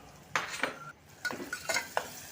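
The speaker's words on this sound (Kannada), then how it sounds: "ಇದು ಎಲ್ಲ ಕಲಿಸಿ ಇದು ಸ್ವಲ್ಪ ಎಣ್ಣೆಲಿ ಫ್ರೈ ಆಗಲಿ" Potatoes and carrots frying in oil with tomato in a pan, stirred with a utensil that scrapes and clinks against the metal in several short strokes over a soft sizzle.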